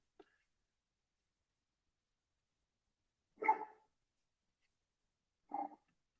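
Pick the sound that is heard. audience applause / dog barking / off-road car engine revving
dog barking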